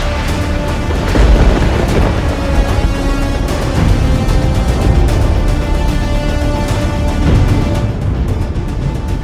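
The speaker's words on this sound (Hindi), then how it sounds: "तभी आकाश में जोर की बिजली कड़कने की आवाज आई" Loud, rolling thunder rumbles on for several seconds with a deep, sustained roar and swelling booms, layered with dramatic background music in a story sound effect.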